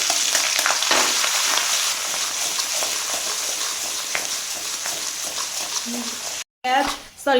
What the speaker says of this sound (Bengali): রসুন আর আদাটা আমার কষানো হয়ে গেছে